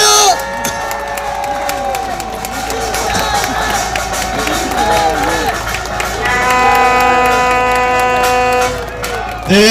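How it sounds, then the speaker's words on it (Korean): Crowd cheering and clapping at an outdoor political rally on a hot weekday afternoon, a dense, sustained roar with shouts and whoops, horn-like tones running through it, steady and loud for nearly ten seconds. "박수 주세요"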